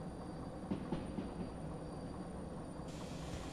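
A train rolling on rails in the Derail Valley video game, a steady low rumbling drone with faint wheel clicks, moderately quiet and continuous, with no talk.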